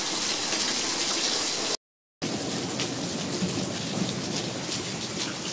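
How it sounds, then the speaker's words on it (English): Steady rain falling in Fort Worth, Texas, a dense continuous hiss with distant thunder rumbling beneath, briefly cut to silence partway through, with no talking. "I love the rain."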